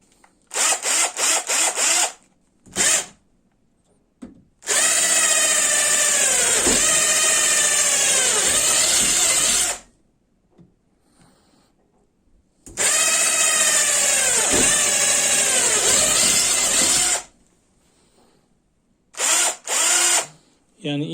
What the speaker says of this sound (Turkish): Yaklaşık 8 milimlik bir matkap ucu.